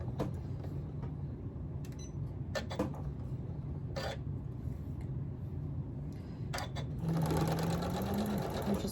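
A sewing machine runs steadily stitching a quarter-inch quilt seam, with a continuous mechanical hum, a few clicks and handling sounds, and a faster whirring burst near the end.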